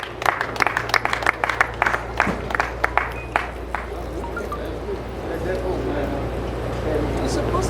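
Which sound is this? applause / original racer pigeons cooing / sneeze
applause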